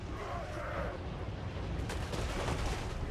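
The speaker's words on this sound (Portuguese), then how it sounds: "O cara deu 3 tiros pra tomar a unidade inteira." Gunfire and artillery volleys from dwarf units in a Total War: Warhammer 3 battle, a dense booming rumble with sharp cracks near the end over a constant low roar of combat.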